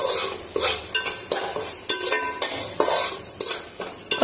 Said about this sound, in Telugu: కొంచెం పసుపు వేసి బాగా కలుపుతున్నాను.